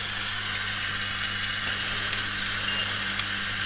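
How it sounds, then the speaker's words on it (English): Carrots and potatoes fry over high heat in a pan with pork, giving a dense, even hiss of steady sizzling that holds without a break, close and fairly loud. "So we've got them now, carrots and potatoes, so we'll get them on the go. High heat again"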